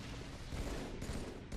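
Rapid, continuous weapon fire during a capture-the-flag match in the game Heretic, with dense overlapping shots and a couple of short dips.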